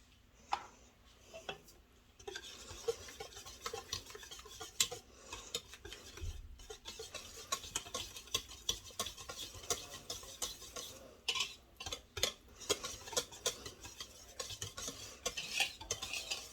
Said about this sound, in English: Broke the eggs into it. And mixed that very well.